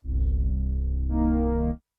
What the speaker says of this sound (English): This is basically a Juno pad